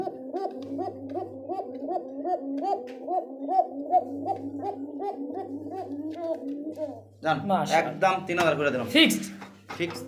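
Racing and fancy pigeons at a Bangladeshi wholesale pigeon market give a steady run of repeated cooing calls close by, later overlapped by louder, busier calls and bird chatter.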